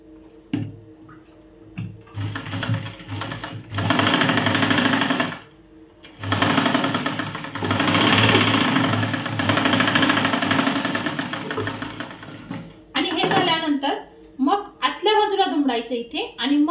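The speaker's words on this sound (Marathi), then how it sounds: "तर इथे एक टिप मारून घेते।" Sewing machine stitching a tuck on a blouse: two sustained runs of fast, even mechanical whirring and ticking, close and loud, with someone talking before, between and after them.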